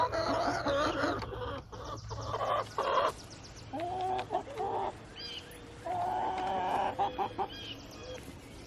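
Chickens cluck and murmur inside a coop, several birds making busy overlapping calls in irregular bursts at close range.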